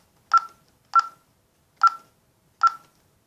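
ADT 6160 security keypad on an ADT Safewatch Pro alarm system, giving four short, clear electronic beeps at uneven intervals as buttons are pressed, close and alone against silence.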